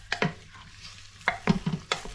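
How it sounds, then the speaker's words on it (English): A spoon stirs beef into a stew in a cooking pot, giving a few short, close scraping and clattering strokes with a soft sizzle between them. "Stir in the beef."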